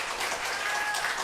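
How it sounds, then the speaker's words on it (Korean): A short burst of audience applause at a Korean religious lecture, a dense, continuous patter of many hands with no voices over it. "보통 이럴 때는 박수 한번 나와주셔야 되는데"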